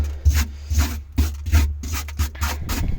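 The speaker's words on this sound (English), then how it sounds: "I didn't have a steel brush, so I'm using a brass brush" A brass wire brush scrubbing rusty trunk metal on a 2004 Subaru Impreza in rapid back-and-forth strokes, a loud, close, rasping rhythm of about two strokes per second.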